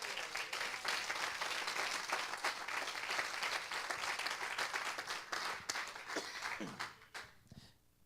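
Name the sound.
congregation applauding in church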